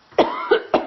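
A person coughs three times in quick succession, short harsh bursts close to the microphone with a hoarse, phlegmy quality.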